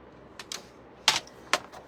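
Scissors or a paper cutter snip through cardstock being trimmed down for a card mat, giving a few short, crisp, separate cuts close by against a quiet background.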